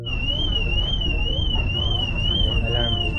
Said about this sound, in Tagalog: Alarm dito.